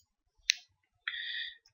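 Two crisp computer mouse clicks close up in a quiet room, a sharp single tick followed a half second later by a slightly longer click.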